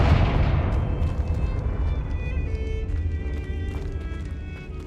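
A Confringo blasting spell from Hogwarts Legacy erupts in a loud, deep boom right at the start, then rolls off into a long rumbling decay with a faint, lingering crackle and no talk over it.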